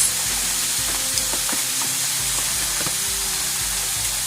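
Libgos shellfish fill a frying pan, sizzling and crackling steadily with a dense hiss and occasional sharp pops and shell clicks throughout.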